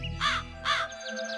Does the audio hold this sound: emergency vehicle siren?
no